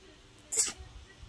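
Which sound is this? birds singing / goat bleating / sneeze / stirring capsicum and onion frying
sneeze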